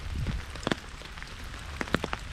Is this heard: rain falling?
yes